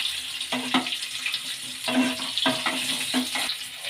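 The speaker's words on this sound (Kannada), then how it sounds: "ಈಗ ಬೇಬಿ ಆಲೂಗಡ್ಡೆನೆಲ್ಲ ಎಣ್ಣೆಗೆ ಹಾಕ್ಕೊಳ್ಳೋಣ. ಎಣ್ಣೆಗೆ ಸ್ವಲ್ಪ ಫ್ರೈ ಮಾಡ್ಕೊಳ್ಳೋಣ." Baby potatoes frying in oil in a pan give a steady crackling sizzle, broken by rhythmic scraping bursts of stirring, close and fairly loud, with no talk.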